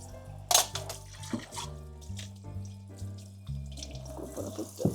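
A kitchen tap runs into a sink while dishes are washed, a steady close splashing stream broken by clinks and shifting flow, no speech.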